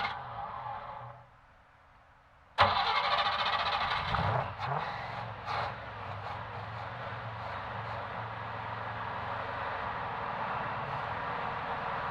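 A 1983 Chevy C10 pickup engine running on an electric fuel pump, starting after a brief quiet gap with a sudden loud roar, revving a few times, then settling into a steady close drone.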